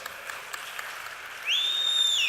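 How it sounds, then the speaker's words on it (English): Scattered applause from a conference audience at a Microsoft Ignite 2016 session crackles steadily, then a high, steady whine rises partway through and rings over the clapping. "you can keep applauding"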